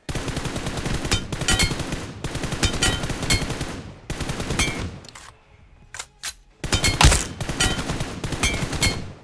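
Rapid automatic gunfire in a mobile shooter game, played as loud, close bursts of shots with brief pauses and a short gap of quieter clicks and echoes between volleys.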